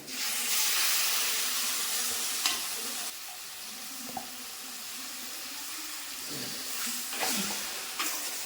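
Ground tomato is stirred into a sizzling papaya curry in a pan, with steady frying hiss and scraping strokes of a spoon that come in bursts, close by and with no talk.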